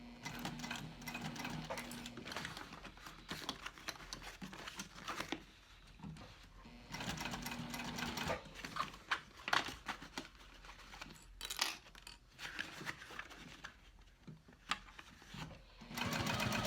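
A domestic sewing machine stitches a backpack seam at about 5/8 inch allowance, running in steady bursts with short pauses and fabric rustling between runs, close and fairly loud.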